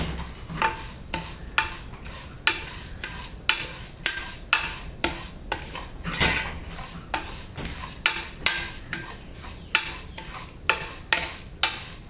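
Vermicelli being dry-roasted and stirred in a pan for payasam: steady, evenly spaced scraping strokes about every half second, close and clear, with no talking.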